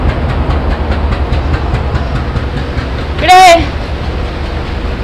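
A train travels from Agartala with a steady, loud rumbling roll and faint rhythmic clatter. A brief rising and falling tonal whistle cuts through midway, with voices nearby.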